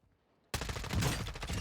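Fast automatic rifle fire with a 60-round magazine on the Call of Duty MW2 firing range, a sudden burst of rapid, evenly spaced shots starting after a quiet moment and continuing steadily.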